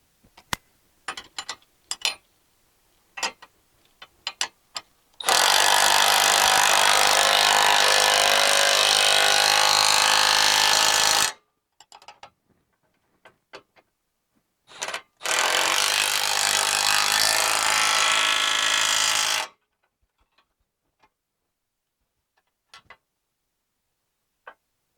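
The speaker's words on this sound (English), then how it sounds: "We're gonna start tightening bolts down, tighten all the front ones." A power tool tightens the bolts on a Fisher EZV plow mount to a service truck, two loud sustained bursts of several seconds each, separated and surrounded by scattered clanks and knocks.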